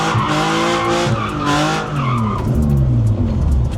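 A car engine revs hard as tires squeal in long, wavering screeches, close and loud, sliding through a drift.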